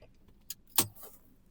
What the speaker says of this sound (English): take out the key